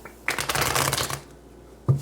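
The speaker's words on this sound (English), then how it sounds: "So let's get a couple shuffles in here" Tarot cards from the Tarot of Sexual Magic Mini deck are shuffled in one dense riffling burst lasting about a second, then a quieter pause before a short sharp snap of cards near the end; close and clear, with no voices.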